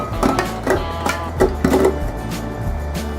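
An electric mixer hums steadily at low speed through carrot cake batter with eggs, a close mechanical whir with a few rhythmic clunks of the beaters against the bowl.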